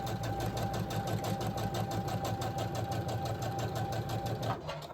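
A sewing machine stitches a quilt seam in a fast, steady mechanical run of even needle strokes, close and continuous, slowing only at the very end.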